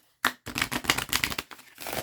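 Close, crisp riffling of a deck of cards being shuffled, several quick bursts of snapping cards separated by brief pauses.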